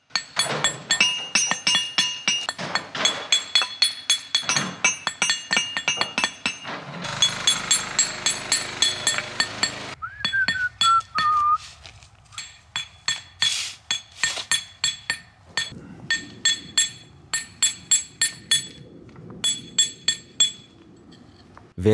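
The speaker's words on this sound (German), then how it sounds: "Wenn mehrere Hämmer gleichzeitig schwingen, ist das wie ein kleines Konzert." Several hammers tap hard on stone in quick, overlapping strikes, a sharp clinking rhythm that keeps going with brief pauses.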